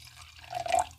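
Yellowtail Shiraz red wine poured from the bottle, a faint, soft liquid trickle that swells briefly and then fades.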